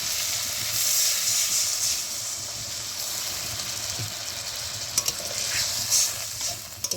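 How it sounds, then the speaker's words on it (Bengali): Water hits spiced fish frying in a pan for a raw-fish gravy, and a steady, bright sizzle hisses throughout with a few small pops and crackles. "একটু জল দেবো, এতেই মাছটা সিদ্ধ হয়ে যাবে।"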